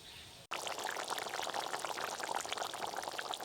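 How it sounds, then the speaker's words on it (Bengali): Spicy fish curry pours steadily from a pan, a continuous close liquid rush that starts abruptly after a brief pause and keeps flowing without talk. "মাছ দেওয়ার পর ঝোলটা খানিকক্ষণ ফুটিয়ে নিয়েছি, এবার ঢেলে নেব"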